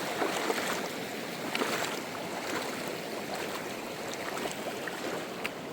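Water rushing in a mountain creek on a Montana hiking trail, a steady broadband wash of flowing current that stays loud and close throughout, with no voices over it.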